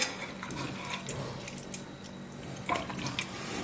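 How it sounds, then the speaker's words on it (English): Whey poured onto cheese curds in a mixing container while making American-style cottage cheese gives a close, wet splashing and trickling with a few brief louder splashes, and no talk. "I'm going to add a scoop of whey, maybe a little bit of whey here"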